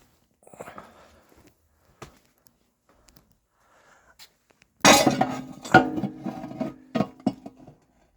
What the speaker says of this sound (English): I'm going to remove this pan, get it out of our way.